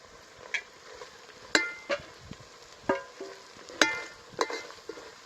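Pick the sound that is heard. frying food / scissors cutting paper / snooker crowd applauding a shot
frying food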